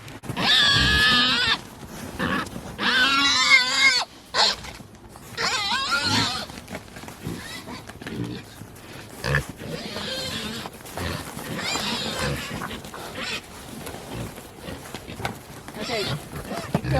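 Pigs squeal and grunt on a farm while being fed salad scraps. The loud bursts come in uneven clusters, mixed with people talking nearby.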